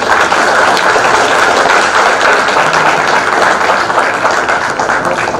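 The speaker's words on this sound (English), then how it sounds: "Give them a big round of applause." An audience at a book release bursts into continuous, dense clapping that stays loud and even throughout, with no talk above it.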